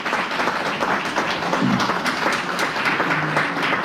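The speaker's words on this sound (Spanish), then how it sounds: "Un aplauso para Manuel." An audience at a book presentation applauds for Manuel, a loud, sustained wash of many hands clapping close by for about four seconds with no talking.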